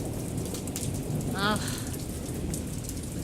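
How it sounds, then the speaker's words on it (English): Steady rain patters and hisses on surfaces with a low distant rumble of thunder underneath, while someone briefly groans. "I think the storm is getting a little more epic"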